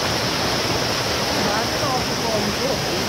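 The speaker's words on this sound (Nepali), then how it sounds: "ल यहाँ त खोला" Stream water rushes steadily at Okhreni waterfall in Sundarijal, a dense, even roar with no breaks and possible faint voices beneath.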